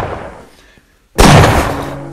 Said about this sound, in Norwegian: To kanonskudd kan bli hørt i avstanden.